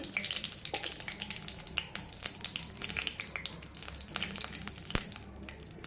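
Mustard seeds and cumin fry in hot oil in a pan, a steady, close sizzle with scattered sharp pops and crackles throughout.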